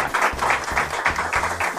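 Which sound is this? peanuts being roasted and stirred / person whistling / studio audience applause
studio audience applause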